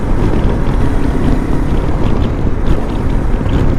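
Lifan KPT 400 motorcycle engine running steadily while riding, fitted with a 43-tooth rear sprocket; a loud, continuous broadband roar mixed with heavy wind rush over the microphone, no talk.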